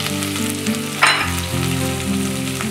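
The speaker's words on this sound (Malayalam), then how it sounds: "എടുത്തു വെച്ച സവാള ഇട്ടതിന് ശേഷം അതിലേക്ക് പച്ചമുളക് ആഡ് ചെയ്ത് അത് ഒന്ന് വഴന്ന് കഴിയുമ്പോൾ" Onion and green chilli sautéing in a pan, giving a close, steady frying sizzle with a short bright scrape about halfway through and a low hum underneath.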